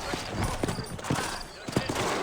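Horses in the Exodus in America video game clop along with steady hoofbeats over a noisy ambient bed, with faint voices in the background.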